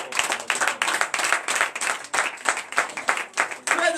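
A church congregation claps in quick repeated bursts, with voices cheering and shouting over the hands throughout.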